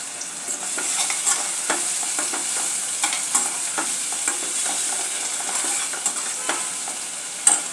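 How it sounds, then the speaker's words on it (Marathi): Tomato paste stirred into frying onions in a pan, a constant loud sizzle broken by repeated spoon scrapes and clinks at an irregular rhythm, close up with no speech. "आता आपण यामध्ये टमॅटो पेस्ट घालून घेऊया"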